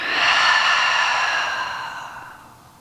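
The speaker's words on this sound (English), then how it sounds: "Maybe taking a cleansing breath in and out." A single deep cleansing breath during a trauma-informed yoga session, an audible airy exhale that swells quickly and then slowly fades over a few seconds, close and alone with no talking.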